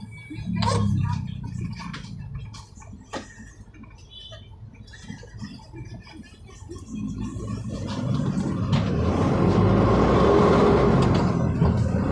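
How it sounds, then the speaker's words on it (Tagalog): A passing train rumbles in, swelling from faint to loud and continuous near the end, after a quieter stretch of scattered clicks and background noise. "Train ta na yan, o train."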